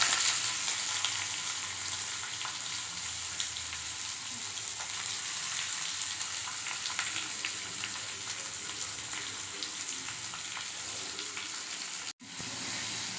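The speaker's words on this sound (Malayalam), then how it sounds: "ഉള്ളി നന്നായി വറുത്തതിന് ശേഷം റെഡിഷ് കളർ, ബ്രൗണിഷ് കളർ വരുന്നതുവരെ വറുത്തുക" Chopped onions with curry leaves frying in oil in a pan give a steady, fairly quiet sizzle that runs throughout, briefly cut by a short dropout near the end, with no voices.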